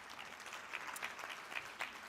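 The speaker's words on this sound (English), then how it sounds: "please give my panelists a warm round of applause" Faint, steady applause from an audience at an aviation gender summit as a panel is thanked, a soft patter of many hands with a few slightly sharper claps, heard from a distance.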